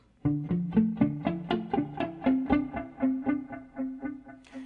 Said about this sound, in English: You can hear the Univibe applied to the echoes, giving it a kind of a swirl and a richness